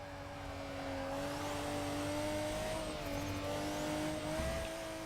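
Stock-engined, fully modified JDM GT car in Forza Motorsport 6 racing game, its engine droning loud and steady with rising and falling revs and gear shifts, alone with no talk.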